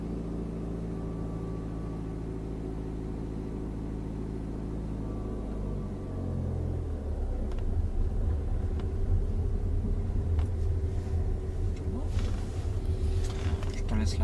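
A car accelerates during a driving lesson, the engine's steady low hum rising into a louder, rougher rumble partway through, close and continuous.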